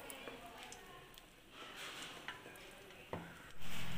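Hot oil heated in a kadhai for onion bhaji gives a soft, steady sizzle with faint crackles, close by and quiet, ending in a louder rush.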